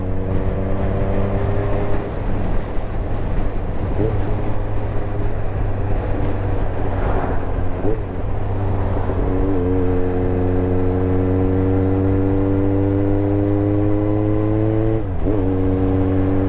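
A 400cc inline-four motorcycle engine drones steadily while riding, its pitch holding near constant, then climbing and shifting in gradual steps, loud and close under a broad wind rush, with no voices.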